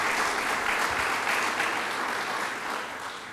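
A crowd applauds at a governor's medical marijuana bill signing, a steady wash of clapping hands from an indoor audience that fades slightly toward the end, with no talking.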